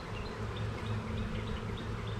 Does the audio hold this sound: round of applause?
no